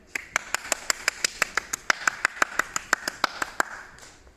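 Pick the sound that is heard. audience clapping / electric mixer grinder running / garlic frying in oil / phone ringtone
audience clapping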